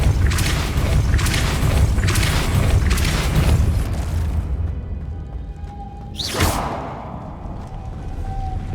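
Depulso force spells in Hogwarts Legacy, a run of repeated heavy booming blasts with rumbling low end, a quieter pause, then a sharp whooshing burst and further rumble near the end.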